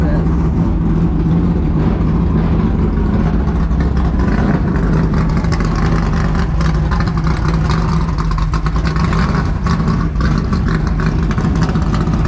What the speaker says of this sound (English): Turnkey car leaving for Texas.